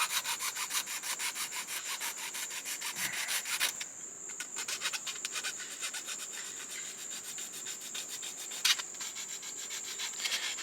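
A survival tool's tip being rubbed on an abrasive surface to sharpen it to a point, giving a steady scraping rub that runs almost throughout, fairly close, under a constant high insect buzz of a jungle setting.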